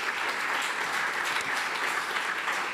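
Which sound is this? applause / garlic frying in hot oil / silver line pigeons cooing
applause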